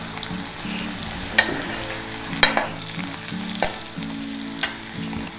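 Dried red chillies sizzle in hot oil for a tempering, a steady close frying crackle with sharp pops and stirring scrapes through the whole stretch, no voices.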